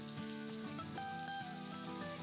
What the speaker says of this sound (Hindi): तो बस 2 मिनट तक हम फ्राई करेंगे